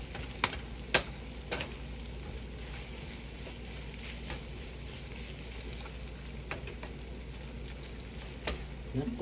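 Corned beef and potatoes sauté in a pan with a steady, moderate sizzle, punctuated by scattered light clicks and scrapes of a utensil against the pan.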